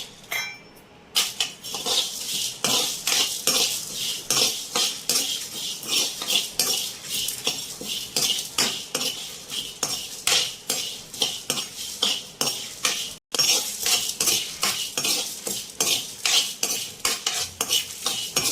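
Coconut pieces stirred and fried in a pan for a tomato rasam, a metal spoon scraping and clinking rhythmically against the pan over a soft sizzle, loud and close throughout.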